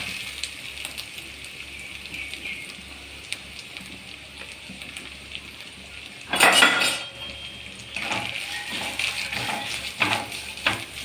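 Cashews, grapes and grated coconut sautéing in ghee in a pan for an elanji snack, a soft steady sizzle with a loud burst of clattering scraping around the middle and stirring noises continuing after.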